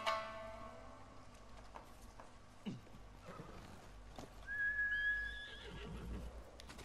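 A horse whinnies in the video game Ghost of Tsushima. It is a single fairly faint neigh that rises out of quiet ambience, with soft hoof clops and rustling around it.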